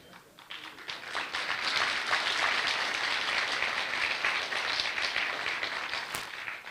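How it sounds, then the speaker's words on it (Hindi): Audience applause at a motivational talk, a dense wash of many hands clapping that swells after the first second and holds steady and loud throughout. "ताली बजा रहे हैं इस बात पे, बढ़िया।"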